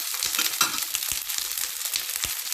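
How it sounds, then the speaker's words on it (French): Stuffed green cabbage rolls sauté in a pan, a steady close sizzle with scattered crackles and light scraping knocks, with no voices. "je les fais sauter de deux côtés et je vous les montre dressés"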